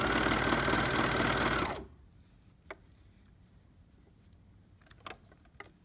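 Sewing machine stitching a garment: a steady, fast mechanical whir close up that stops after about two seconds, followed by quiet handling clicks and taps.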